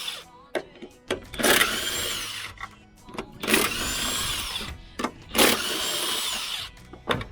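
A power tool, likely an impact gun, removes the 18mm bolts holding a vehicle's upper suspension in three loud bursts, separated by clicks and clanks of handling tools nearby.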